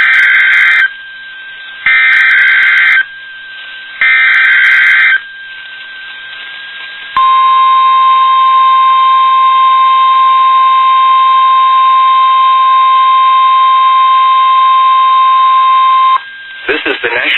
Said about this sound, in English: The preceding signal was a test of the NOAA Weather Radio public warning system for northwest Wyoming.